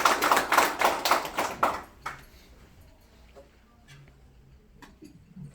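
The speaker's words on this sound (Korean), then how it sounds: "박수로 맞이해 주시면 됩니다" Audience at a Korean 60th-birthday banquet clapping to welcome a speaker, a short burst of loud rhythmic claps from a small group that stops after about two seconds, leaving a quiet room with scattered faint taps.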